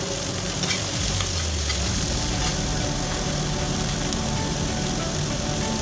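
Cauliflower, broccoli and ridge gourd fry together with cumin seeds in a little oil in a pan, giving a loud, steady sizzle with stirring scrapes throughout and no speech.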